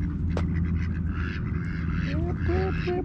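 Ducks quack in short bursts at a Las Vegas spot in the morning, the calls rising over a steady low rumble while someone talks nearby.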